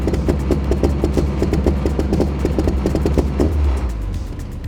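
Car engine held at 2,000 RPM on a launch-control setting with clutch in, run indoors: a loud, steady, pulsing idle-like drone with rapid rhythmic firing, close and continuous throughout.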